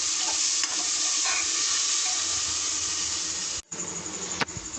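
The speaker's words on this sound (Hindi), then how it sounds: "भून ली है मैंने, उसके बाद मैं इसको मसाला डाल दूँगी।" Onions and masala fry in a pan with a bright, constant sizzle while a utensil stirs and scrapes now and then; the hiss drops out briefly near the end and then resumes, with no talking.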